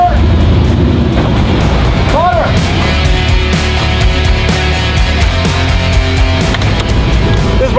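A custom-built Mercedes G-Wagon AMG 4x4 truck with oversized tires drives out under a steady, loud engine rumble close by, while people talk over it.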